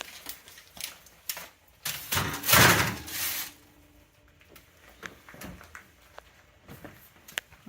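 An oven door swings open and shuts as fish goes in under the broiler on the second rack down, a loud broad clatter building around the middle amid scattered knocks and light kitchen thuds.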